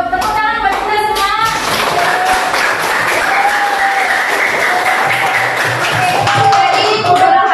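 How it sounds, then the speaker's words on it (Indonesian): Classroom students applauding together, loud, dense clapping that holds steady for several seconds with voices and cheering mixed in, then tapers as a few last claps remain. "Buat tepuk tangan buat kita semua."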